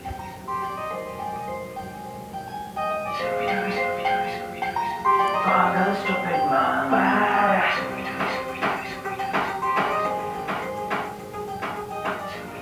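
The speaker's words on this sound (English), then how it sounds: "I'll just play the song which is there in my pen drive." Song played from a pen drive through an Onida TV's speakers, a melodic tune with steady rhythmic beats that grows fuller and louder after a quiet start.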